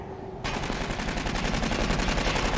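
Rapid automatic gunfire bursts out abruptly in the sci-fi shooter game Aliens: Colonial Marines, a dense, continuous rattle of shots that stays loud and steady after a brief quiet start.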